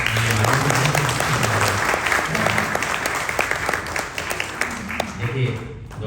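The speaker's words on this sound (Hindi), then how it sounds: "देखिए डॉक्टर साहब ने भी ताली बजा दी।" An audience claps at a community gathering, steady broadband applause filling the whole stretch at close range, with a voice talking faintly underneath at the start and again near the end.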